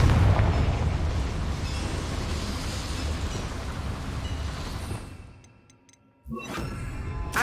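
A Confringo fire spell blasts inside a small mine in Hogwarts Legacy, a loud roaring burst that rumbles for several seconds, fades almost to silence, then gives way to sharp crackling debris.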